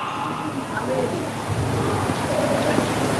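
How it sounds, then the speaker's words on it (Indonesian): Audience applause at an Indonesian religious gathering in Tambak Dipasena, Lampung, a dense steady wash of clapping filling the whole moment at even loudness. "Tepuk tangan."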